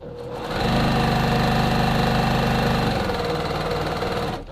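A sewing machine stitches a dart on a men's classic vest in one steady run of rapid mechanical chatter lasting about two seconds, close and loud, with motor hum before and after.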